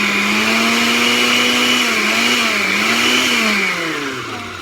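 A blender whirs loudly at close range while blending sofrito of garlic, peppers and onions, its motor pitch wavering and dipping as the load shifts, then trailing off slightly at the end.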